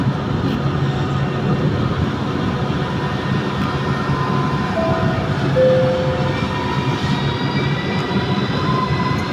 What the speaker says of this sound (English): Train 9741-2, Venezia Santa Lucia, is arriving at platform 5.